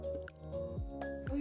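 Water is poured into a container while preparing siru kizhangu snacks in Nagercoil, with a continuous gurgling, bubbling flow and rising and falling liquid tones at moderate level.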